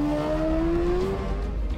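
Sidecar racing bike engines drone loudly on a road race course, one high engine note sustained and slowly falling as the machine passes, over a steady roar of further engine noise.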